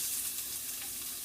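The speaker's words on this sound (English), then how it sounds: "good to get sizzle on" Chopped onion sizzling in a frying pan: a steady, close hiss of frying with no talking.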